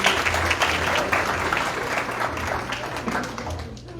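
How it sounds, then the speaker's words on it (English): An audience at a gala dinner clapping their hands in steady, sustained applause, with faint voices mixed underneath. "Y'all can clap your hands for me."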